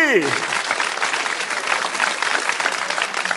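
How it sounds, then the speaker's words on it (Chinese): A crowd claps loudly and steadily for a few seconds, a dense, continuous burst of applause. "掌声鼓励。"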